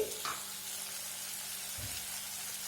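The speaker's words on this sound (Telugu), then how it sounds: "ఈ టమోటా ముక్కలు కూడా కొద్దిగా మెత్తగా అయ్యేంత వరకు ఫ్రై చేసుకోండి" Tomato pieces frying in a pan for a potato curry, a steady soft sizzle running throughout with a brief stir or clatter near the start and a low thump toward the end, no voices.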